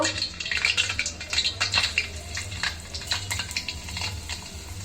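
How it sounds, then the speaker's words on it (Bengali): Chicken pieces for chilli chicken sizzle and crackle in hot oil in a pan, a steady frying hiss with scattered sharp pops and a few utensil knocks. "তেলটা গরম হয়ে গেছে এখন আমি চিকেনগুলো দিয়ে নেব"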